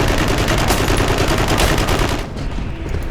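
Dense, loud gunfire rattles in rapid continuous bursts during battle in the Eternal Crusade video game, then cuts to a quieter stretch of lighter shots.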